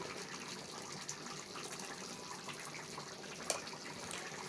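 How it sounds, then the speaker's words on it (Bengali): Water poured into a pan of chicken korma on the stove, a steady splashing gush that runs continuously and moderately loud, with no speech over it. "আমি এখানে সামান্য জল দিয়ে দেব"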